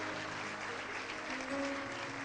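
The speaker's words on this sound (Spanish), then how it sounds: "Un aplauso a Dios, que es fiel." A church congregation applauds together at a Venezuelan evangelical service, a steady, even wash of clapping that stays fairly quiet and distant from start to finish.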